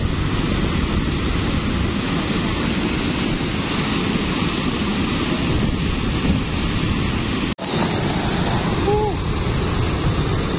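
A volcanic lahar flood at Semeru carries large stones in a loud, continuous rushing roar of churning water and debris, steady throughout with a brief dropout, and no clear speech over it.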